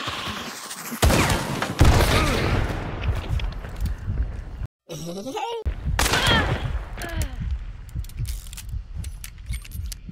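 Shotgun fire and battle noise from the video game Hunt: Showdown come as loud, harsh bursts and rattling clatter, with a brief cut to silence midway before the gunfire picks up again.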